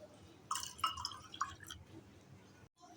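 Milk sharbat poured from a ladle into serving glasses, giving a few short liquid splashes and drips in quick succession, close and fairly quiet, followed by a brief pause of near silence.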